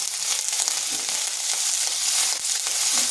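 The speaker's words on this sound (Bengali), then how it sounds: "আদা রসুনটা একটু ভেজে নিচ্ছি যাতে তার কাঁচা গন্ধটা চলে যায়" Grated ginger and garlic fry in a pan of oil with cumin, giving a steady, dense sizzle that crackles evenly throughout with no voices.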